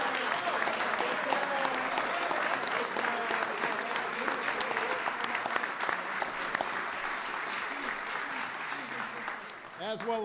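Sustained, loud audience applause from a large crowd at an NBA event as a standing ovation honors Jerry West, steady clapping throughout with cheering voices mixed in.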